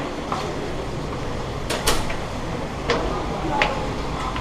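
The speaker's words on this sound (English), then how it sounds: "go through 2 doors here" Doors swinging open and shut aboard the Carnival Freedom cruise ship, a few brief thuds and clicks spread over a few seconds against steady background noise.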